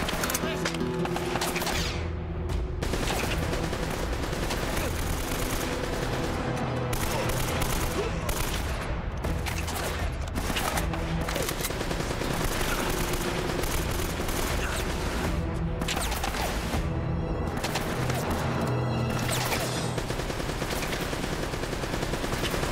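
M4 rifle fire in the video game Uncharted: Drake's Fortune, continuous dense bursts of automatic gunfire and booms filling the whole stretch, loud and relentless, with voices talking underneath.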